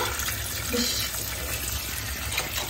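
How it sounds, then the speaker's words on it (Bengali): Small crabs being washed under running water, a steady close gush and splash that fills the whole stretch with faint voices in the background. "এগুলো হচ্ছে ছোট ছোট কাঁকড়া। তো এখন এটা ধোয়া চলছে।"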